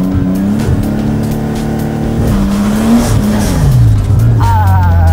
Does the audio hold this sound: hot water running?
no